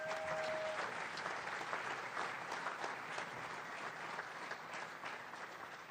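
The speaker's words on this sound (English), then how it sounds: "So give yourselves a round of applause." Sustained, thick applause fills a hall at a university higher-degree graduation ceremony, a continuous roar of many hands clapping at an even loudness for six seconds with no voices on top.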